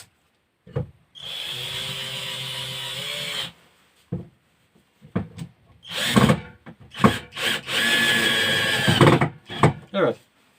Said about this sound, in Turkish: Buraya bu deliklerden vida sıkar.